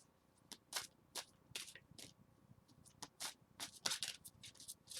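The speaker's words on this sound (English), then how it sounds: "just bear with me while I shuffle for a moment" Tarot cards are shuffled by hand in a quiet room, a string of soft, quick riffling and sliding bursts in an irregular rhythm, faint and close.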